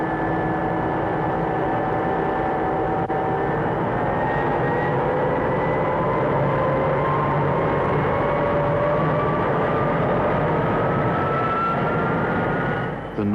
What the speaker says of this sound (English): The noise of a jet engine has become an established part of our life.